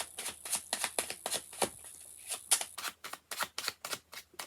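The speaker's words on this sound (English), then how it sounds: "Two more shuffles." Rapid riffling of playing cards in repeated bursts, each a crisp fluttering rattle, close by with short pauses between shuffles.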